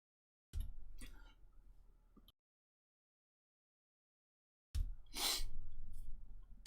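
A person sneezing from allergies, two loud, close bursts of breath separated by about two seconds of silence, the second sharper and more forceful.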